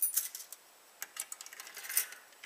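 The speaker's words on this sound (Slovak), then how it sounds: "Skúsime niektorý z týchto ďalších kľúčov." Metal keys jingle and click against a lever lock as different keys from a bunch are tried, a series of light, sharp taps and rattles close by.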